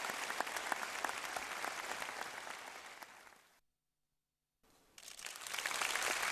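A crowd at a joint performance by North Korean and Chinese artists applauds and cheers loudly and steadily, the clapping dense and sustained, breaking off briefly into silence before swelling again.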